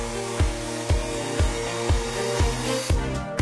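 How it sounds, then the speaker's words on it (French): A hair dryer blows steadily up close, its whooshing hum pulsing in regular surges about twice a second. "Et enfin, passe un bon coup de sèche-cheveux."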